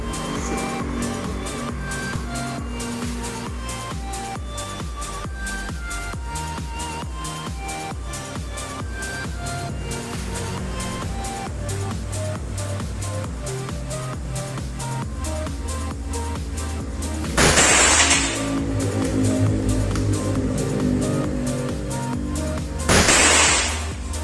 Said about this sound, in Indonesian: kita akan segera menembak 3 metal silhouette ya, 3 sasaran ya, semoga bisa kena 3-3-nya